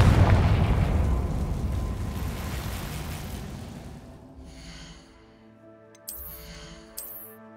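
A Confringo blasting spell in Hogwarts Legacy goes off with a loud, close burst that decays into a rumbling tail over several seconds, followed by quieter ambient tones and a couple of short chime-like effects.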